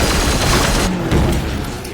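A Vindicare assassin fires in the tactical game Warhammer 40k Chaos Gate Daemonhunters, making a loud, dense blast of gunfire with a booming rumble that fills the whole two seconds and fades slightly toward the end.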